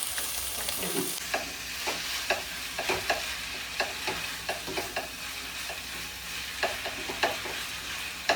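Chicken chops fry with salt in a pan under a steady sizzle, as a spatula stirs them with regular scraping clacks every half second or so, close and clear, with no talking.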